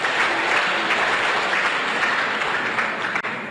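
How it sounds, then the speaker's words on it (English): Steady, moderately loud audience applause fills a hall at a public event in Plateau State, a dense wash of many hands clapping without pause and no voices over it. "help me say a big thank you by giving them a round of applause"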